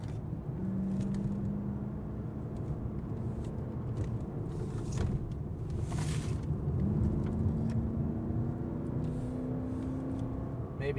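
A Lexus LS460 F Sport in sport mode pulls through a run of turns, a smooth steady engine drone with a rising pitch as it accelerates, mixed with road and wind noise from inside the cabin.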